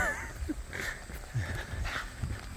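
A dog named Bo, on a farm guarding donkeys, gives a few faint, short barks and whimpers at a distance amid soft background noise.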